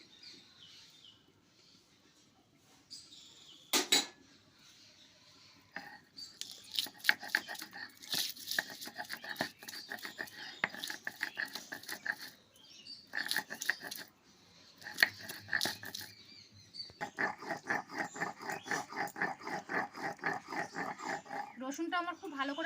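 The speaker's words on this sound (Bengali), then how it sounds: "এবার আমি রসুনটা বেটে নেব।" Garlic ground on a grinding stone makes rhythmic scraping and grating strokes in quick bursts, pausing between rounds, with a sharp knock early on and steady grinding to the end.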